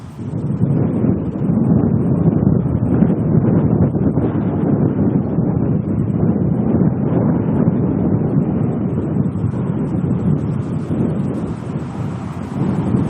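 Strong wind buffeting an outdoor microphone at Auckland Airport, a loud continuous low roar with gusty swells that holds steady throughout.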